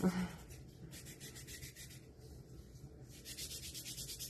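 Hand sanding scuffs a garland craft piece to distress it, faint rhythmic rasping strokes in short repeated bursts, close and quiet with no talk.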